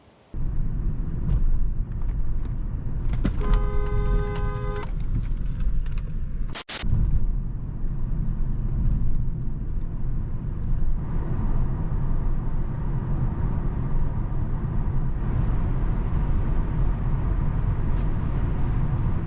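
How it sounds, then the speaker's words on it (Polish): Steady road and engine drone fills the cabin of a 2007 BMW 730d E65 cruising on the highway. A broad low rumble runs throughout, with a short tonal chime early on and one sharp knock partway through. No one talks. "zobaczcie, jakie tutaj jest wyciszenie"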